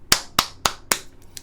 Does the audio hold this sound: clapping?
yes